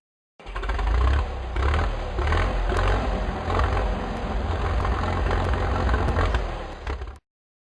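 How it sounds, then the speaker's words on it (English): A tractor engine runs steadily at a near, loud idle, a low rumbling drone with faint mechanical clatter lasting several seconds on its own. "Tractor."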